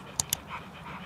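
An American Staffordshire Terrier panting quietly during a temperament test, a couple of short sharp breathy catches followed by soft, faint, steady breathing in a calm room.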